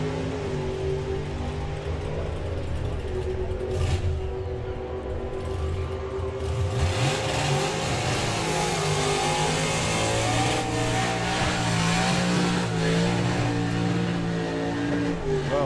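A Challenger hot rod drag car at a Santa Pod Raceway hot rod drag meet launches and accelerates in a sustained, loud engine roar that rises in pitch and swells over a long, steady run.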